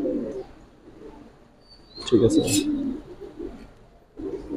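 Pigeons kept for sale at a market coo softly in short bursts, with a brief chirp, while people talk nearby.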